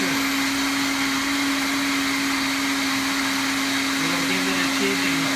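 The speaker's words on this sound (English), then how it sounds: "We're going to blend up the sweet potatoes in this that we forgot to put in." A countertop blender purees sweet potatoes into a vegan mac and cheese sauce, a loud, steady whirring drone that holds the whole time with no talking.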